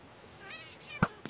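Cat meowing in a modded Minecraft survival server game: a short synthetic meow, then a sharp hit and another quick impact, close and loud.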